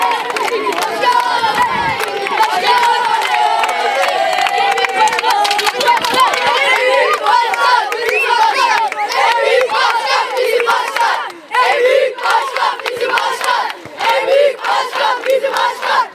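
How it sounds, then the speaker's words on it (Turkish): Schoolchildren at a middle school crowd together cheering and chanting for a visiting mayor, a loud, continuous roar of many young voices shouting and yelling close by, with scattered claps and chatter mixed in. "sevgi gösterileri ve tezahüratlarda bulunan öğrenciler"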